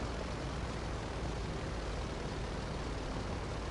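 Tula plane flying in the video game GTA Online, a loud, constant, dense engine drone with no variation, heard alone without speech.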